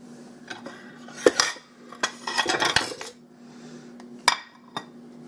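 Metal clanks and clinks as a raspberry cheesecake is released from its push-up pressure-cooker pan, a few sharp knocks with a busier clatter in the middle, close and fairly loud, no talking.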